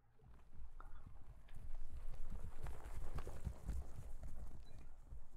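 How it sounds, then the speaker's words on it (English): A horse sound effect in the Silent Hill 2 video game: a rumble of galloping hooves, like several horses running across a field, building quickly and staying fairly loud throughout with no talking. "Did they just use a horse sound effect? You know, like a bunch of them just running across a field."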